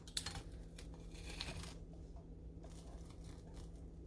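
A crisp breakfast pizza crust is cut, giving a few faint, dry crackling crunches at close range over a quiet background.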